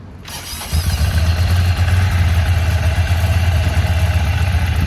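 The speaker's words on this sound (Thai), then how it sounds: "ขอฟังเสียงเครื่องฮะ" A Ducati Scrambler 795 motorcycle engine starts with a brief crank and then settles into a loud, steady, close-up idle with a throbbing low rumble.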